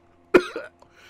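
A voice imitates a wet, bloody cough, one sharp close hack followed by a smaller gurgling tail in a quiet room.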